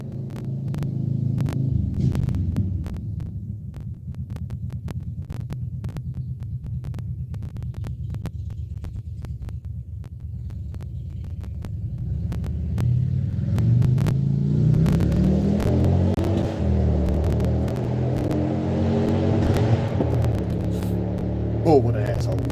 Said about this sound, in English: Got a motorcycle coming, hang on.